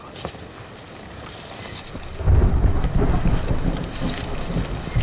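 Steady rain hisses throughout as a deep rumble of thunder swells midway and rolls on loudly to the end.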